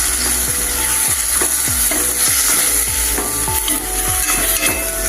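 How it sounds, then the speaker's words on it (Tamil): Ginger and garlic tempering in a pan for South Indian temple rasam make a loud, steady sizzle of frying, with repeated rhythmic scraping and stirring knocks from a spoon against the pan. "இப்போ இதுலேயும் கொஞ்சமாக இஞ்சி பூண்டை சேர்த்துக்கிறோம்"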